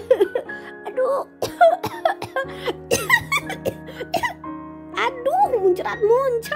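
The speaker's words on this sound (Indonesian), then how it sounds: "Oh, aku batuk." Coughing from a cartoon cow character with a sore throat, several short harsh bursts mixed with groans and playful children's-story voices over background music.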